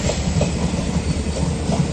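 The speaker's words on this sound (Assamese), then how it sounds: "ট্ৰেইনখন তলতো চলি থকাৰ নিচিনা লাগিছে।" The Lachit Express passenger train rolls steadily past, its wheels and carriages making a loud, close rumble with a regular clickety-clack that runs without a break.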